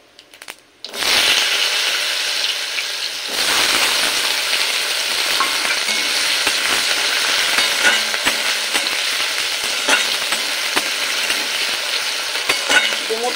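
Potatoes dropped into hot oil with cumin seeds start a loud, close, continuous sizzle that rises after a brief quiet opening and keeps crackling steadily, with occasional utensil taps; no one speaks.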